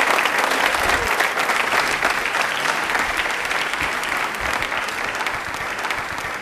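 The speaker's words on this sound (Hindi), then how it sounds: "तालियां एक बार जोरदार हो जाए।" A studio audience on a quiz show about Indian Railways breaks into loud, sustained applause, a dense wash of clapping that holds steady throughout with no talk over it.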